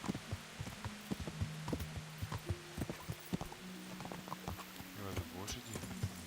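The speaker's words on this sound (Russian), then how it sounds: "И это лошади, нифига себе." Horses' hooves clip-clop in the medieval game Kingdom Come: Deliverance, a steady scatter of sharp, fairly close hoofbeats over a low ambient bed, with talk mixed in.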